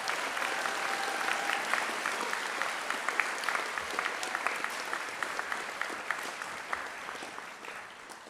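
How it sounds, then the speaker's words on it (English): A school gymnasium audience at an 8th grade moving-up ceremony gives a steady round of applause, a dense, even wash of many hands that carries on throughout and eases off slightly at the end. "How about one more round of applause for our award winners and our students?"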